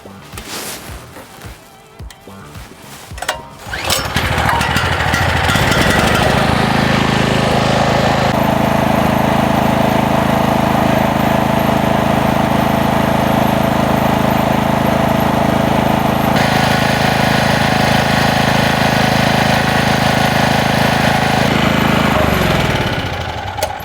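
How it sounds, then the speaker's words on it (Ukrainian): An AL-KO 3500 C framed petrol generator starts up and runs steadily at close range, a loud continuous engine drone with a constant hum that holds level for about twenty seconds before cutting off near the end. "Давайте нарешті запустимо генератор та проведемо найлегший тест, а саме, чи відповідають показники шуму заявленому виробником значенню."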